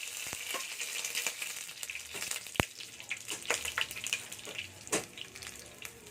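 Chopped garlic sautéing in a hot pan for chop suey, a steady close sizzle and crackle with a few sharp spatters and stirring clicks throughout.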